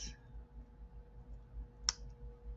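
Wire cutters snipping off excess jewelry wire: one sharp, close snip in a quiet room, with a fainter click just before it.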